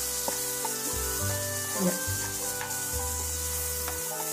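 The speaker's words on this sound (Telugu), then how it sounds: "ఇప్పుడు ఇందులోకి మనము బఠానీ శనగలు వేసుకుందాం. వేసుకొని కలుపుకుందాం." Chickpeas and peas tipped into a curry pan and stirred, a soft sizzle under scraping spoon strokes, with a low steady hum running beneath, no voices.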